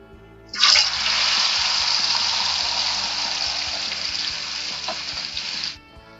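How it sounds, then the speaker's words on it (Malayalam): Butterfly-cut chicken goes into hot oil with a sudden loud burst of sizzling. It settles into a steady, dense crackle that lasts several seconds, then cuts off, with no talk. "ഇനി നമ്മുടെ ചിക്കൻ ഈ എണ്ണയിലേക്ക് ഇട്ട് കൊടുക്കാം"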